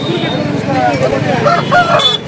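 A rooster crows loudly nearby amid other poultry clucking at a Sunday poultry market in Nellore, with people talking in the background.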